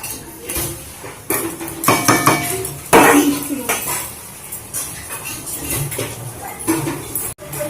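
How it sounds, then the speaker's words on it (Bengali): Shrimp being stirred in a metal cooking pan for a prawn and elephant-foot-yam stalk chorchori, with a spatula scraping and clinking against the pan in busy, irregular strokes up close, over a low sizzle. "চিংড়ি দিয়ে এইভাবে ভালো করে একটু নেড়ে নিতে হবে"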